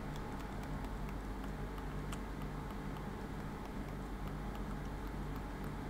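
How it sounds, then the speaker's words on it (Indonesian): Soft, muted clicks from a Logitech M331 Silent wireless mouse, a handful of faint ticks spread across a low steady background hum, with no talking. "untuk seberapa silentnya kita akan coba klik mouse ini."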